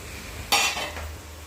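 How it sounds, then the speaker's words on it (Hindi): A spoon scrapes and stirs sago kheer with boiled milk in a pot, giving one short clattering scrape close by over a low kitchen hum. "ये साबूदाने की खीर बना रही हूँ फिलहाल, तो दूध उबल गया है"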